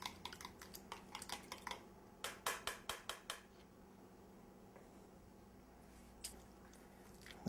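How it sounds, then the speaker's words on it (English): Milk and melted butter beaten together in a bowl for a sweet potato dish, heard as a quick run of sharp rhythmic whisk-against-bowl clicks, then a brief pause and a second burst, closing with a few scattered taps in a quiet kitchen. "Then we just want to beat this together real quick before adding it in to the potatoes"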